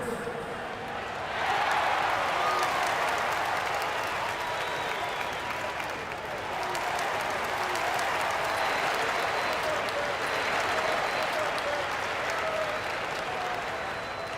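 An arena crowd in NBA 2K26 applauds and cheers: a swelling, sustained roar of clapping that stays loud for over ten seconds, with an announcer's voice underneath.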